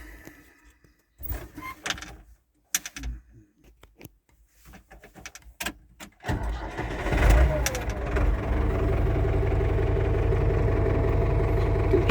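A Ford 6610 tractor engine with fuelling issues cranks over after some clunks and handling noises, then catches and settles into a loud, steady low rumble that runs to the end.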